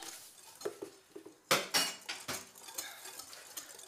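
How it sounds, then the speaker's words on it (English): Salt is whisked into the dry ingredients for scones in a mixing bowl: light scattered clinks and taps at first, then a burst of brisk, scraping metal strokes against the bowl, close and clear. "Salt, and then whisk it together."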